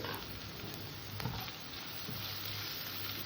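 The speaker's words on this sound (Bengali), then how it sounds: "হালকা লাল করে একটু ভেজে নেব সোনালি কালার করে" Chopped onions sizzle in hot oil in a pan, salted early so they soften while browning to golden, giving a steady, quiet crackling hiss throughout.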